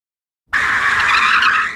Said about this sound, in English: I felt that some of the skids and the door opening were a bit too loud.